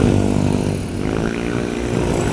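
A loud motorcycle exhaust roars steadily nearby, a harsh, buzzing drone that dips briefly and then rises again with rough engine pulses throughout.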